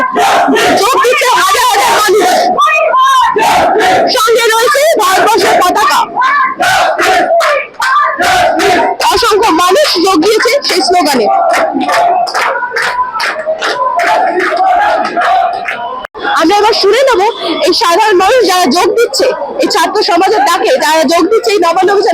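Crowd chanting slogans in unison at Sealdah station in Kolkata, loud rhythmic shouted calls and responses from many voices, close and continuous, with a brief break near the end before the chant resumes.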